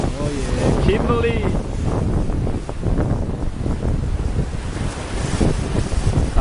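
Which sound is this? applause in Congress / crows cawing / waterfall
waterfall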